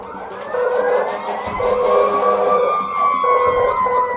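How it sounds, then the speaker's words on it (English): A passing ambulance's wailing siren rises and falls steadily over a few seconds, loud and close, with traffic rumble beneath and no talking. "I heard some ambulance go by my house"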